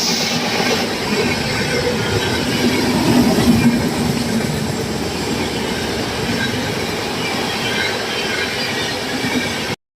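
Kashi Vishwanath Express train running in India, a steady loud rumble of wheels and carriage noise with faint squeals, heard from on board and continuous throughout.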